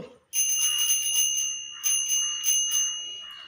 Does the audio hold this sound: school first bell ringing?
yes